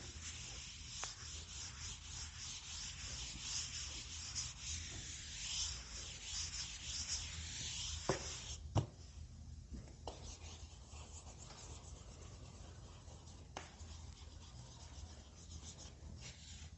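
Chalk or marker rubbing and scratching on a board during a physics lecture, long continuous strokes with occasional sharp taps, fairly close and steady, without talking.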